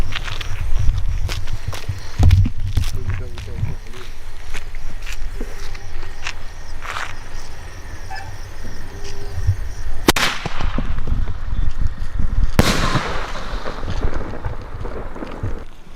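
A 3-inch pipe firework cracker set off during Diwali cracker testing: two sharp, loud bangs come late, after a stretch of outdoor wind noise and footsteps, with no talking.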